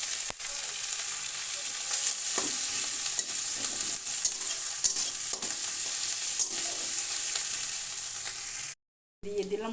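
Grated ginger and chopped green chilli are stirred into spices in a hot pan, giving a continuous close sizzle with scraping stir strokes, a brief silent gap near the end, and no talking.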